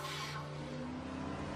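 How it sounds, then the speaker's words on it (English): A car's tires squeal in a short skid before a crash in a radio public safety announcement, a loud, strained screech fading out. "Why did you crash your car and hurt yourself?"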